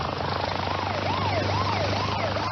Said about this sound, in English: he was met by a University Air Care helicopter